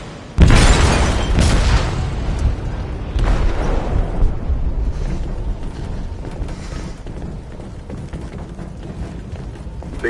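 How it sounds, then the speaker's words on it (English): An explosive detonates in a ship's hold in Detroit: Become Human, opening with a sudden heavy boom and followed by a long, rumbling, debris-filled aftermath of secondary thuds and creaks that slowly fades. "They detonated an explosive in the hold."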